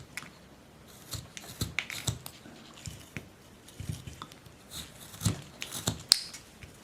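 Knife carving a wooden figure with short shaving cuts; repeated small scraping and snicking strokes in an irregular rhythm, close and quiet, without talking.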